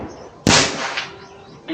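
A single loud rifle shot firing a slug through an MK barrel at a 70-meter range, a sharp close crack with a short decaying echo, then quiet and a faint start of another sound at the end.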